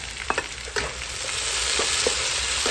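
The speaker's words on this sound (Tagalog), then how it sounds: "Naglagay ako ng maraming kamatis." Plenty of chopped tomatoes go into a hot pan with garlic and onion for squid adobo, setting off a steady close sizzle with brief scraping stirs and no talking.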